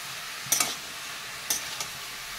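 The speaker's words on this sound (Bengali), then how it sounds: "এবার হালকা নাড়াচাড়া করে নিয়ে তারপর লবণ দেবো" Pumpkin shukto ingredients being stirred in a pan, soft scraping strokes, two or three brief spatula scrapes over a steady sizzle.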